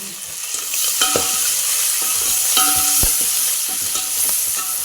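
Turmeric, coriander and spices frying in a pan for Telangana-style chintakaya dhappadam, heard as a loud close sizzle with several sharp stirring scrapes and clinks throughout, with no voices.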